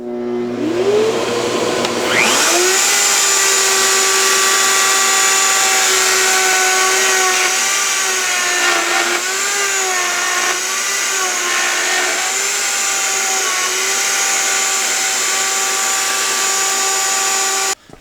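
Router with a long 2-inch cutting bit spins up with a rising whine and cuts a mortise in Baltic birch plywood, a loud steady high-pitched roar with a dust collection hum underneath.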